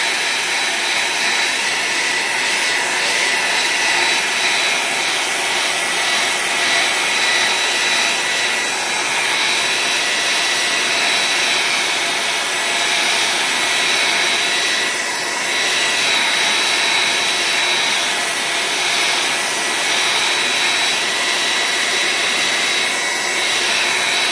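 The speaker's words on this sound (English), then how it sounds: "let me hit it with the air dryer" A hair dryer blows in a steady, loud rush of air that runs unbroken throughout, with faint shifts in pitch and no voices.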